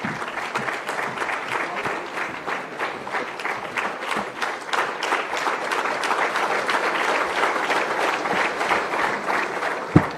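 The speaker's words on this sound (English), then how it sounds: "A round of applause, please," An audience at an Andhra Pradesh public event claps loudly to welcome the Honorable Chief Minister, Nara Chandrababu Naidu, a thick and sustained wash of hands that stays strong to the end, closing on one sharp nearby clap.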